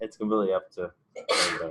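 A single sharp sneeze bursts out at the end of a short stretch of indoor conversation in an office during phone system training.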